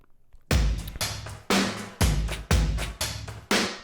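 After a brief quiet start, a trip hop shuffle drum loop kicks in with booming kicks and swung hits at a steady mid tempo, loud and instrumental.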